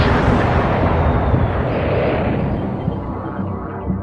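A huge Big Bang explosion effect, a loud, deep, roaring rumble that sustains and then slowly fades, heard alone without voices.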